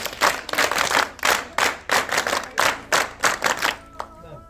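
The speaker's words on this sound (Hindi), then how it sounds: "ताली बजाओ।" A group claps hands in about a dozen loud, sharp bursts at a brisk rhythm, then stops, with a voice trailing at the end.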